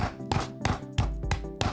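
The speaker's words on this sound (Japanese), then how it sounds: "何かこうフライパンとか鍋とかあったらそれで叩いて薄く伸ばします" A frying pan pounds a butterflied chicken breast thin. About six heavy, dull thuds land at a brisk, slightly uneven pace, close and fairly loud.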